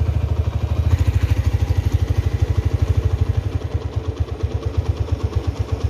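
A red first-generation 2008 Honda Tiger motorcycle idles at a slow, steady speed of about 1000 rpm. Its close, even exhaust pulses thump in a regular rhythm with a light mechanical clatter and no voices.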